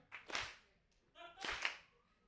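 Comedy club audience clapping together in a slow rhythm: two broad, unified claps roughly a second apart, with the comedian's voice heard briefly in the gap.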